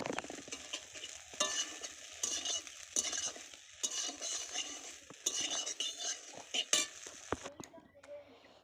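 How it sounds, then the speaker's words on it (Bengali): Soybean chunks frying in a pan, a soft crackling sizzle under frequent scraping and clinks of a metal spatula stirring, close and fairly quiet, stopping abruptly near the end. "আলুগুলো তুলে নিয়ে তারপর এই সয়াবিনগুলো ভেজে নেব"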